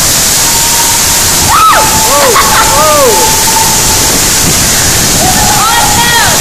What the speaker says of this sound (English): Here's what we're looking at. A wall of water.